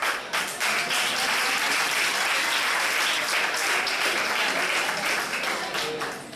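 Loud, sustained applause from a large audience at the closing ceremony and final of a junior debate competition, dense clapping that continues steadily throughout before easing slightly at the end.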